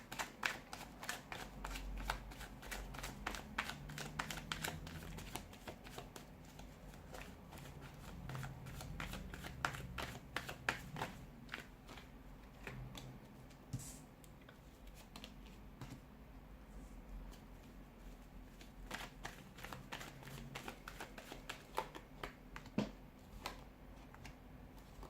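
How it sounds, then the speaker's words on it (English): Tarot cards being shuffled by hand, a steady run of riffling, slapping card sounds close up, continuing throughout with no talking. "let's give the cards a shuffle"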